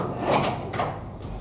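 A standard garage door is opened, giving a brief squeak and a sliding scrape that fades into a low rumble over about a second and a half. It sounds close and fairly loud, with no voices.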